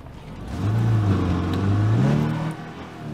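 Car engine in State of Decay 2 revving up and down, a loud, steady mid-pitched roar that rises and falls in pitch over a few seconds, with no talk.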